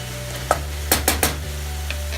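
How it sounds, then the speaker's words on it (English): Green peas and other ingredients stirred in a frying pan, with a few quick scraping and clacking strokes of a utensil over a steady low hum, close and with no talking. "And you just mix them well for 5 minutes."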